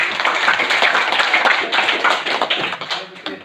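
Audience members at a teachers' positive-culture training session clap together in a dense, steady burst of hand claps that stays loud throughout, with no voices over it.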